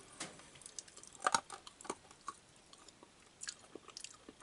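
Crunchy baked dessert beans are chewed in scattered, sharp crunches and clicks of varying strength, close and otherwise quiet.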